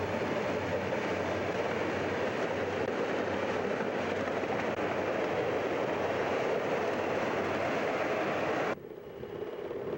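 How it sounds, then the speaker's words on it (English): A 1983-era westbound empty coal train working up a steep mountain grade at Kelly Springfield, a loud continuous roar and rumble of passing cars that cuts off abruptly near the end, leaving quieter rumble. "The last seen is a 1983-era westbound empty coal train at Kelly Springfield"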